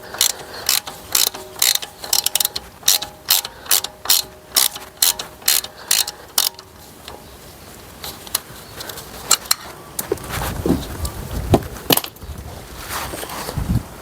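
A ratchet loosens the small brake disc retaining screw on a 2017 Mercedes E220, giving a loud, close, steady run of sharp clicks for about six seconds before giving way to quieter handling and clunks.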